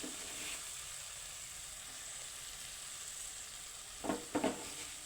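Cumin and mustard seeds sizzle quietly in hot oil with tomatoes for a tamarind chutney. A faint, steady hiss runs throughout, and near the end a few sharp pops or scrapes break through.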